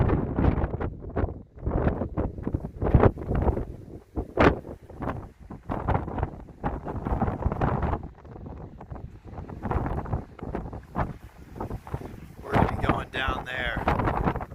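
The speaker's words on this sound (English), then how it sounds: "it's very windy." Cold, gusty wind at a Grand Canyon trailhead on a hike down to the Colorado River, roaring and buffeting close against the microphone in uneven bursts while a person talks throughout.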